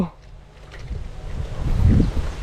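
Strong gusting storm wind buffets the microphone while a Thai Chula kite flies, a low rumbling roar that swells and surges louder toward the end.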